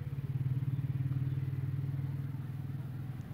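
A sewing machine stitching the shoulder seams of a printed lawn frock gives a close, steady low hum with a rapid rhythmic chatter that fades slightly toward the end.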